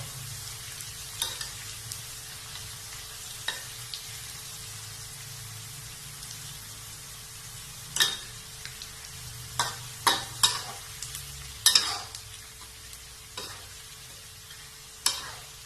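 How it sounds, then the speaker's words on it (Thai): Wonton dumplings deep-frying slowly in oil over medium-low heat, a quiet, steady bubbling hiss punctuated by scattered sharp crackles and utensil taps, close and unaccompanied by speech. "การทอดเกี๊ยวต้องระวังนิดนึงนะครับ เพราะมันไหม้ง่ายเพราะฉะนั้นเราจะ ใช้ไฟ กลางค่อนข้างอ่อนนะครับ ค่อยๆทอด"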